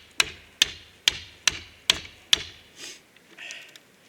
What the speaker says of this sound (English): take either a mini sledgehammer, or in this case I'm just using the back end of an axe